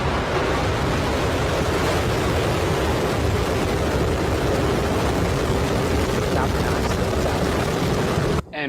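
SpaceX Falcon 9 rocket lifting off, a dense, steady broadband roar like heavy rushing surf, loud and unbroken for several seconds before cutting off at the end.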